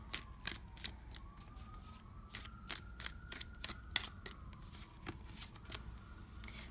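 Tarot cards being shuffled before another card is drawn: a steady series of crisp, quick riffling snaps and flicks close by, with no talking, over a faint steady background tone.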